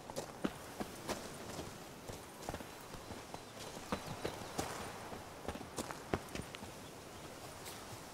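Roach, Geralt's horse in The Witcher 3 Blood and Wine, walking at a steady pace, with rhythmic hoof clip-clops on hard ground, fairly faint and even throughout with light ambient background.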